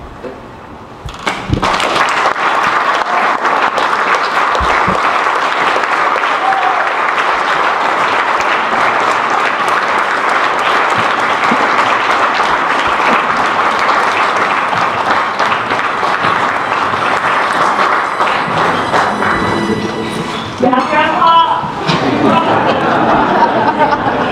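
Sustained, loud applause from an audience at an educators' hall of fame induction dinner, with dense clapping, a few thumps and murmured chatter, fading near the end into scattered laughter and talking.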